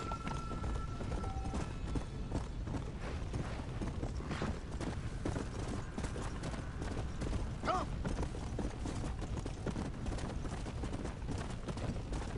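Horse hooves clip-clop steadily through a riding sequence in Red Dead Redemption: Undead Nightmare, a continuous galloping beat under dense in-game background noise with no talking.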